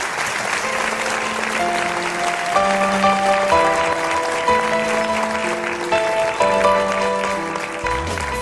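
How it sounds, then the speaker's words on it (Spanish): Applause from a radio programme's audience fills the stretch, a steady wash of hand claps mixed with sustained tonal music playing underneath throughout. "Pido un aplauso para ellos."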